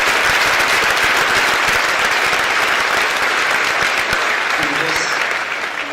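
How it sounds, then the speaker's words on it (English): A crowd at a university Formula SAE race car unveiling gives the faculty a full round of applause, loud continuous clapping that holds steady for several seconds before easing slightly at the end. "So let's give a round of applause for all of the faculty."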